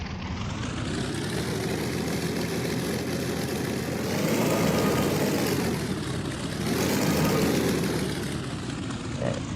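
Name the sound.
propeller aircraft engine run-up, video game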